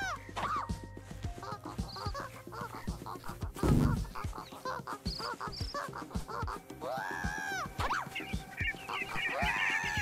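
Cartoonish goose-like honks and squawks from three birds chasing a character in the video game Voidigo, repeated over a busy bed of rhythmic game sounds and footsteps, with a louder burst midway.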